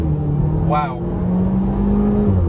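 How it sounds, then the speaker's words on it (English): A 2019 Hyundai Veloster accelerates after the brake is released, its engine holding a steady drone with a brief rising whine. Someone appears to be talking over it. "We're gonna step on the brakes, give it a little bit of gas."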